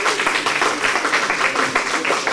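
Applause from an audience at an evening Afro soirée event, steady rapid clapping from many hands filling the room without pause.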